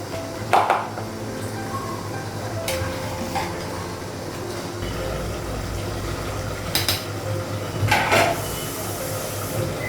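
A lid set onto a cooking pot of rice in a home kitchen gives a few short metallic clinks spread through the clip, over a steady low background hum.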